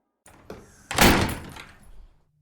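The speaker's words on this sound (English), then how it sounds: "and Baldy kicked the door shut." A door kicked shut in a radio detective drama: a short knock, then a loud heavy slam that rings briefly and fades, with no voices.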